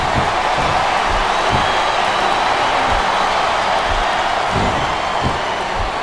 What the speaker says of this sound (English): Sounds like this capacity crowd has something on their minds, Taz.